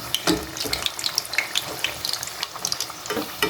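Potato chops fry in hot oil, giving off a steady bubbling sizzle with brisk crackles and spatters throughout.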